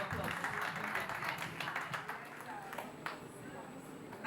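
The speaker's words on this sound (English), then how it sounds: "Let's get a round of applause." Audience applause at a Nigerian celebrity gathering, a continuous wash of clapping from a crowd that stays steady and fairly distant, with a few sharper claps standing out near the end.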